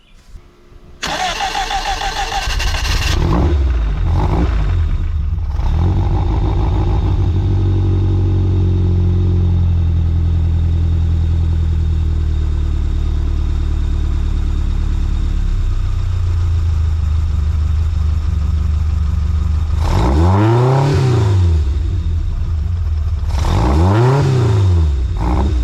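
A 1985 Bertone X1/9 engine on dual Weber carburetors cranks and catches, then idles loudly and close with a steady mid-pitched drone. Near the end, two quick revs rise and fall.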